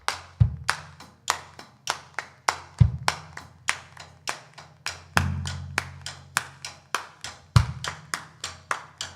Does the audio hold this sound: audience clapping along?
yes